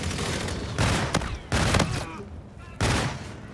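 Loud, rapid bursts from a Hailstorm pistol in a shooter video game, three distinct bursts spaced about a second apart.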